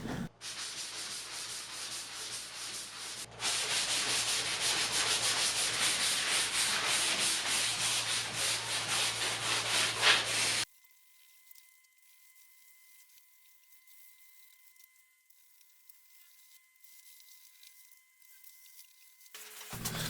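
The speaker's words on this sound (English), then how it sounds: "This sanding took hours and a lot of sandpaper" Hand sanding of a wooden dining room table with sandpaper: a dense, scratchy rasp that grows louder after a few seconds and runs for about ten seconds, then stops into near silence.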